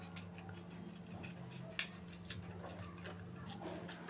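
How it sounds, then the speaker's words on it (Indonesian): Scissors snip through a used plastic water bottle near its base, giving one sharp close cut followed by a fainter second snip over a steady low hum. "Kita gunting agak ke bawah ya."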